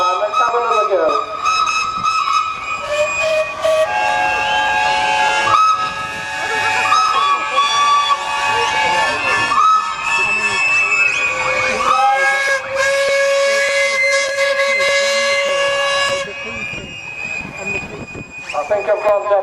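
Traction engines at a steam rally in Driffield blow their steam whistles, several shrill tones overlapping and shifting in loud, continuous blasts over hissing steam before they die away.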